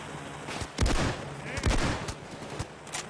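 Shotgun blasts in PAYDAY 2, a few loud booming shots at irregular intervals over a busy background of other gunfire, close and punchy.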